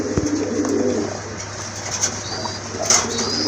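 A crested male fancy pigeon from a breeding pair coos in low repeated murmurs, close by, with occasional wing flutters and faint surrounding bird chatter.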